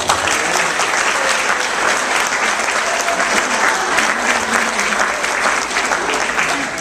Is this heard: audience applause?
yes